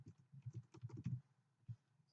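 Quick bursts of keystrokes on a computer keyboard, a rapid run of clicks followed by a pause and a couple of isolated taps, close and fairly quiet.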